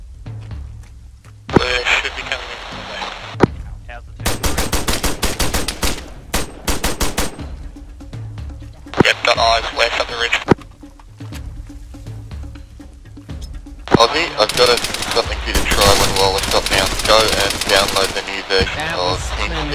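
Arma 3 gunfire in loud bursts of rapid automatic shots and single cracks, spread across the stretch with gaps between volleys and a longer sustained burst near the end, voices talking in the pauses.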